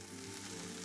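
Bean sprouts sautéing in a pan with garlic and chili oil for Hong Kong style chow mein, a short, faint, even sizzle with no voices.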